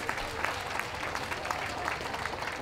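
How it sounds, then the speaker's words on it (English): Steady applause from a crowd for the judge at the Windsor Championship Dog Show 2014, dense clapping sustained throughout without pause, moderately loud and even. "And a round of applause, please, for your judge"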